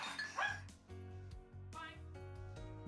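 A dog barks and yips in short bursts, close and fairly loud, with whimpering tones between the barks.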